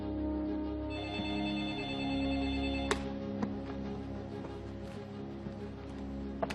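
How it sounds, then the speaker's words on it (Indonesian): A telephone rings steadily in a quiet room, its bright electronic tone repeating at a low level with faint clicks and knocks, no voices heard. "Maaf Pak Habibie, ada telepon dari Jerman"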